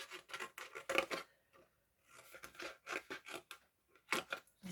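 Scissors cut through a piece of card in a run of close, crisp snips and crunching slices, pausing briefly midway before more cuts follow, with no speech.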